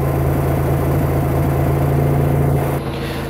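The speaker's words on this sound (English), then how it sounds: "you can hear the small vacuum leak" A car engine idling steadily with a small vacuum leak added to run it lean, a continuous close rumble with a low hum that drops slightly near the end.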